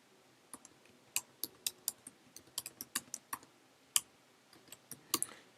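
Quiet typing on a computer keyboard: about twenty sharp key clicks in an irregular rhythm, close by and otherwise silent.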